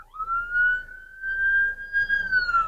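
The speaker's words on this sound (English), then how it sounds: "The light is green, but there's a ambulance coming." An ambulance siren approaches a traffic intersection with a green light, heard as a single sustained rising-then-falling wail, steady and moderately near, with faint road rumble beneath.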